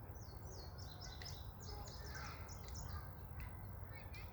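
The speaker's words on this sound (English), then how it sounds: "Did you hear the birds?" Several birds chirp and call repeatedly in quick bursts outdoors, moderately faint over a low steady background rumble.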